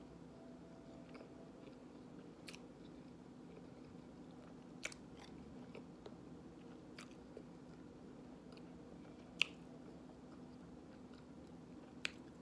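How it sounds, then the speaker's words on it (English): A person chews food near the mic, faint soft mouth sounds over a quiet room hum, broken by a few sharp little clicks and crunches and no speech. "Let me finish chewing this."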